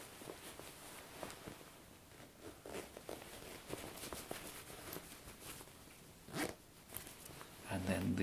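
The zip fly on a pair of tailored gentleman's suit trousers is done up, giving soft ripping zipper strokes among light rustles of fabric, close and quiet, with a voice talking over it.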